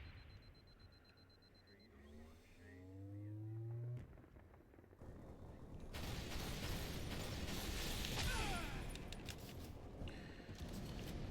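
Grenade blast in the Halo video game: whooshing game sounds give way to a sudden loud burst that rolls into a long, noisy, crackling roar.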